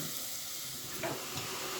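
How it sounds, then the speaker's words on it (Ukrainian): A steady sizzling hiss of onion and vegetables stewing in a hot pan, with a couple of faint stirring scrapes. "І все це будемо тушити 3 хвилини."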